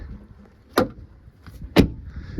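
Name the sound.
van rear doors being shut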